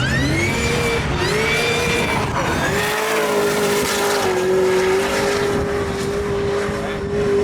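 A supercharged race car engine making 950 horsepower at the wheels, at a drift championship round at Croix-en-Ternois, roars loudly and continuously, with revs climbing and then held high under a whining tone.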